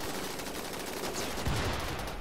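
Rapid minigun fire from mechanoids in the video game Rimworld, a dense, continuous rattle of shots with a heavier burst partway through, loud and unbroken.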